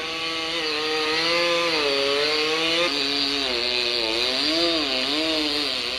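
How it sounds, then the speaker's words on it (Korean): A chainsaw cuts into a large wild cherry tree, its engine whining loudly and steadily with pitch rising and dipping as the bar bites into the wood, close by with no talking. "전기톱이 아닌 그 옛날 탄개톱을 사용했다면 몇 시간이 걸릴지 모를 정도."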